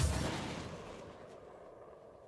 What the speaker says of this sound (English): I think one more missile will take him out